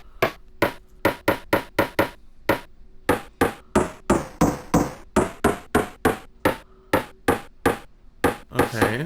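Crisp side stick hits from an LM Drum sample being retuned, a long run of sharp, close, dry clicks in a quick steady rhythm with small pitch shifts between hits, no voices.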